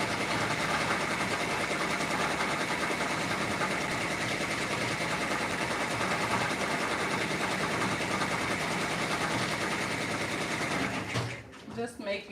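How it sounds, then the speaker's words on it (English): A sewing machine stitches an Easter bunny lovey baby comforter, running in a steady, unbroken mechanical hum close by for over ten seconds before slowing and stopping with a few rattles. "And now I'm going to start sewing."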